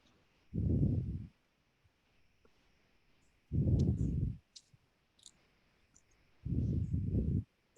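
Typing on a computer keyboard comes in three separate bursts of rapid, muffled key clatter, each lasting under a second, with quiet pauses between them and no talking.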